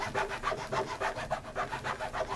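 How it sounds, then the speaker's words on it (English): Sandpaper on a sanding block worked over leather during a simple boot and shoe repair, rasping in quick regular back-and-forth strokes, close and moderately loud with no voice. "sandpaper and a bit of block."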